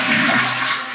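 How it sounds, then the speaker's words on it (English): A hotel toilet flushes nearby, a loud steady rush of water with no talking. "the flush is working"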